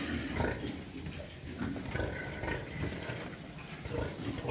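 A farrowing sow and her newborn piglets in a pen, with continuous close grunting and squealing activity over steady background noise throughout.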